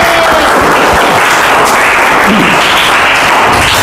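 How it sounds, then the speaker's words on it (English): Loud, dense applause from a room of students fills the whole stretch, steady and close as a classmate comes forward for an icebreaker. "Give applause for Rara."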